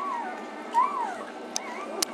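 A newborn Great Pyredane puppy whimpers in soft, rising and falling whines, close and fairly quiet, with a couple of brief clicks or squeaks.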